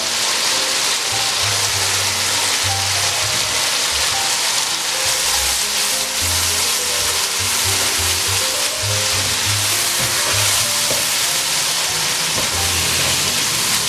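Minced meat hits a pan of spiced masala for aloo matar keema, giving a loud, steady, broadband sizzle that holds evenly throughout with no pauses.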